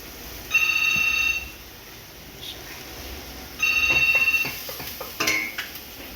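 A telephone rings in a kitchen, two bursts of electronic trilling separated by a pause, fairly loud, with faint clatter of dishes between and after.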